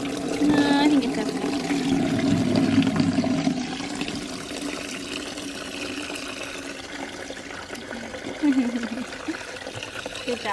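Water pours steadily into a bucket, a loud, continuous rushing splash from close by that softens slightly as it fills, with brief voices mixed in.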